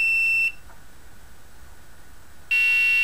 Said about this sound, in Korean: LED가 켜지고 부저가 울리고